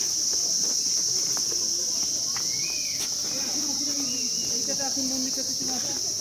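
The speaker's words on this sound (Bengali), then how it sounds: "ঝিঝি পোকার ডাক" Crickets chirp in a constant high shrill drone at an outdoor spot near a monastery, steady throughout, with faint bird calls and a few quiet voices underneath.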